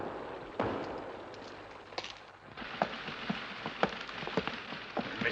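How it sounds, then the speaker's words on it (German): Light rain falls steadily in a wartime setting, a soft hiss of drizzle broken by scattered sharp drops and thuds. "Nicht heftig, aber es regnet."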